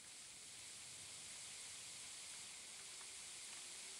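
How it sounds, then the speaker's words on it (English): Steady, dense hiss of meat sizzling in a survival video game, continuous and even throughout with no voices. "Gotta love that sizzle sound."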